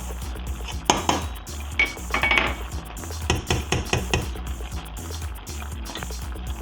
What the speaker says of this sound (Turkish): Yine salçamızla beraber 4 dakika soteleyeceğiz.